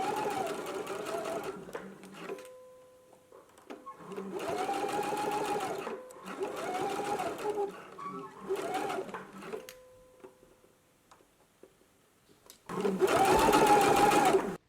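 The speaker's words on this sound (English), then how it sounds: "we can go to the sewing machine and we're just going to baste this in place" A sewing machine basting fabric runs in several bursts of rapid stitching, separated by pauses, with a longer, louder run at the end.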